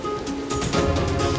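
Steady rain patters and hisses across a surface, a dense continuous wash of drops with no voices.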